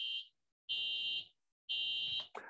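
Shrill electronic fire alarm in a building going off in steady repeating pulses, each roughly half a second long with short silent gaps between them, loud and close, with no voices.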